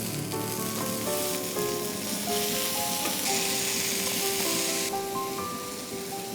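Uttapa fries with a steady, loud sizzle on a hot pan, with light scraping and tapping as a spoon flips them over, continuous throughout with no voices.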